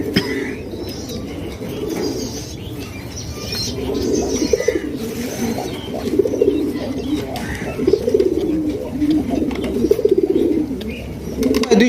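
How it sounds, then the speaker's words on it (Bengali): A pair of red king pigeons coo softly and steadily at close range, with a few faint wing flutters and some background bustle from a pigeon market. "এইখানে রয়েছে খুবই সুন্দর একজোড়া কিং কবুতর ভাই, লাল গিয়ারের একজোড়া কিং কবুতর মাশাআল্লাহ"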